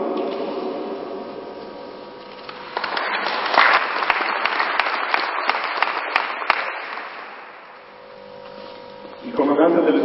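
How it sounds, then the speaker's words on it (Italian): An audience at an air force ceremony on a military airfield bursts into sustained applause that swells, holds for several seconds and fades, with speech before and after. "meriti di cuore sicuramente un vivo applauso e profondo rispetto"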